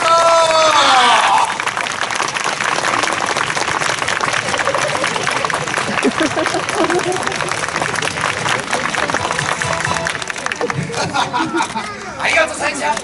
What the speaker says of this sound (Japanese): 拍手じゃー